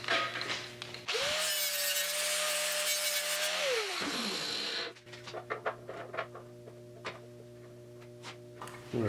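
A grinder works metal on the quarter valance of a Triumph GT6 under restoration. One loud, steady whining pass of about three seconds spins down, then lighter ticking and scraping sounds follow over a constant background hum.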